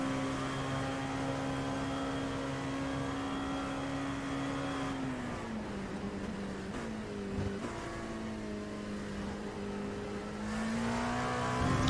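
Race car engines in the iRacing sim drone steadily on a long straight at Le Mans, a sustained whine that dips in pitch as a faster prototype closes and passes, then climbs again, with no talking.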